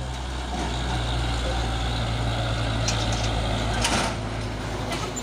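A heavy box truck engine rumbles steadily at close range, a constant low drone with traffic noise around it and a brief burst of hiss near the end.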